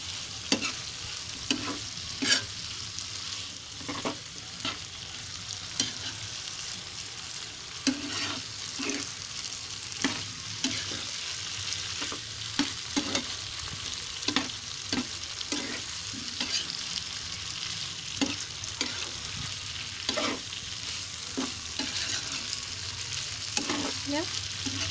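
A spatula scrapes and knocks steadily through potato balado with shrimp paste in a pan, giving regular stirring strokes over a continuous low sizzle.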